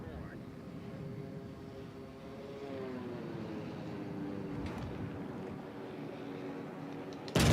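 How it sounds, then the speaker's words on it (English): A propeller plane launches from a ship in World of Warships: Legends, with a droning engine hum that rises and falls in pitch over a low rumble. It stays moderately quiet and ends in a brief thump. "Launch the plane."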